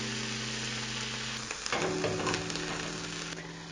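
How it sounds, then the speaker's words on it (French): Red wine vinegar simmering and reducing in a pan gives a steady, soft sizzle and bubbling that carries on alone, with a few faint clinks partway through. "Et vous laissez réduire et un peu mijoter."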